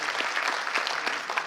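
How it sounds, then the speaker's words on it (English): Scattered applause from a graduation ceremony audience, a steady patter of handclaps that stays fairly quiet and even throughout the short stretch. "That deserves a round of applause."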